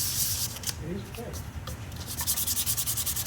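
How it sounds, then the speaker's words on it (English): Rhythmic sanding of a cracked wooden bowl, rapid back-and-forth scratchy strokes close by, pausing briefly midway before resuming in quick regular passes, with a voice speaking softly in between. "I would end up, sanding more."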